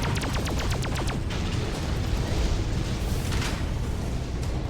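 A battleship explodes in the space game Freelancer, a loud, sustained rumbling roar opening with a quick run of rapid pops before settling into a dense, steady blast.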